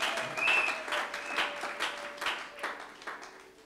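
A church congregation applauding Jesus of Nazareth, a burst of lively clapping that swells and then slowly tapers off, with a few scattered cheers.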